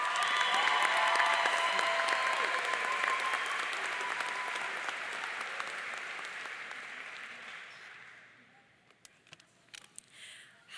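A graduation audience applauds as speaker Josie is welcomed to the podium, with steady dense clapping that fills the room, then gradually thins and fades out over the final seconds, leaving a few scattered claps.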